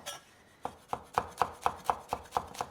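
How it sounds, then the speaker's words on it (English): A knife finely chops chili on a cutting board, about nine crisp, evenly spaced strikes in a quick steady rhythm, close and clear with no talking. "Nice, finely chopped chili."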